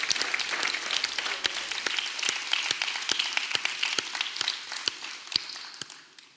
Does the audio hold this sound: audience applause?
yes